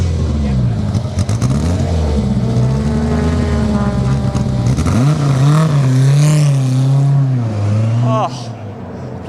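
A loud Elan 26R racing engine revs up and down close by at Silverstone, its deep throaty note rising and falling in long sweeps before cutting back near the end.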